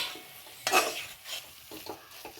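Spice powders sauté in a pan for layered chicken dum biryani: a spoon clanks and scrapes against the metal, with a soft sizzle beneath and a few lighter taps that follow.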